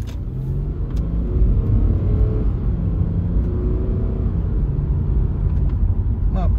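A Subaru Outback's six-cylinder engine revs smoothly, a steady mid-pitched rumble that climbs and holds close by, with someone talking over it.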